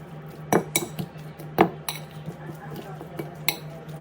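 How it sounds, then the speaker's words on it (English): Potato being mashed together with butter and a dash of milk in a pot, a few sharp utensil knocks and scrapes against the pan at irregular intervals over a low steady kitchen hum. "And we're just going to mash this all in together with the butter."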